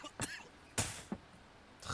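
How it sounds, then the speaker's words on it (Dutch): A Red Dead Redemption 2 game character coughs in three short, rough bursts spaced through two seconds, fairly close and moderately loud, with quiet gaps between them. "Hij zit wel echt ontzettend veel te hoesten nu"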